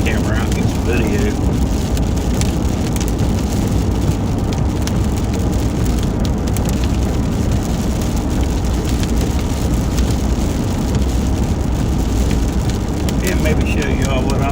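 Rain pours during an Ohio storm chase, a constant loud wash of falling water heard from inside a vehicle with engine rumble beneath, while someone talks over it.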